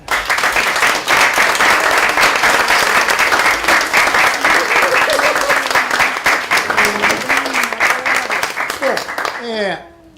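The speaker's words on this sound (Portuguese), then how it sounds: "eu não posso deixar de pedir a vocês um aplauso entusiástico para a Sônia e para o Técio." Loud, enthusiastic applause from a large crowd at a lecture, sustained for several seconds before fading out, with a few voices rising at the end.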